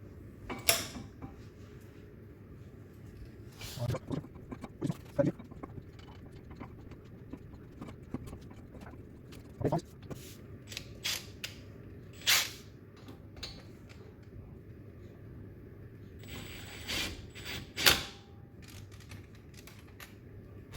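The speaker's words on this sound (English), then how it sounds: "Now I need to get these screws in, these bolts in." Metallic clicks, ratcheting and clanks while bolts are threaded in on the front brakes of a 2000 Audi A4 B5, irregular bursts of close tool noise separated by quiet pauses.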